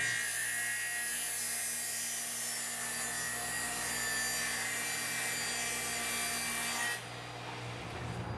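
Power saw cutting wooden boards for the vertical panels of a side-mount Murphy bed cabinet, a loud steady whine running continuously for about seven seconds before dropping off, with no talking.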